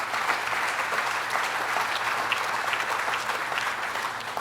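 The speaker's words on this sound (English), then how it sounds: "So give them a round of applause." Steady applause from a large audience at a summer Adirondack Challenge event, dense and continuous clapping filling the whole stretch without any voices.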